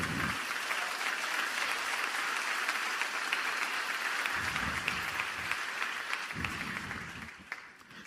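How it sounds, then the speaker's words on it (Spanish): A church congregation gives loud, sustained applause during a sermon, dense clapping continuing evenly and tapering slightly at the close, with a few low rumbles underneath. "¿Cuántos dan un fuerte aplauso al Rey?"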